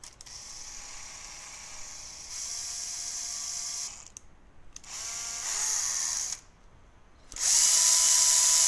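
A spindle motor on an encoder test setup runs counterclockwise, its high whirring whine rising in pitch over several bursts separated by short silent pauses, with no talking.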